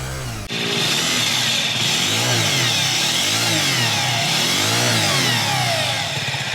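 A Honda ADV 160 scooter with an abnormal CVT noise runs steadily up close, its loud engine drone carrying a rhythmic, wavering whine throughout.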